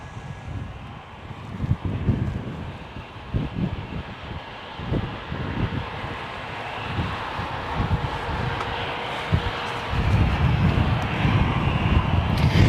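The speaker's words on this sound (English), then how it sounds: "so we've got a Virgin now departing" Virgin Australia airliner departing Gold Coast Airport, a broad, steady jet roar with low rumble and wind buffeting on the microphone, building slightly louder toward the end with no talk.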